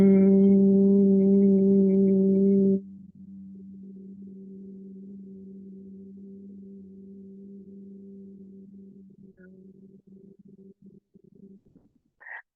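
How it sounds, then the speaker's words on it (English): A person hums one long, steady low note that holds for around ten seconds and gradually fades and wavers toward the end, after a brief fuller tone at the start; close and alone, with no talk. "we're going to hum for as long as we can"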